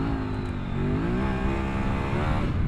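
A Kove 800X Pro adventure motorcycle accelerating hard, its engine note rising steadily in pitch as it pulls, loud and close, with rumbling road and wind noise throughout and no talk.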